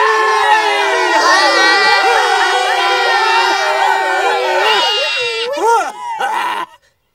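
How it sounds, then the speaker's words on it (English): A cartoon crowd of people yelling together in one loud, sustained mass of shouting voices lasting several seconds, breaking into a few shorter shouts before cutting off. "the priests blew one long blast and then all the people yelled"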